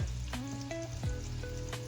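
A big, thick cheese omelette sizzles steadily in a cast iron skillet, with a few sharp scrape and clatter accents as a spatula works and flips it.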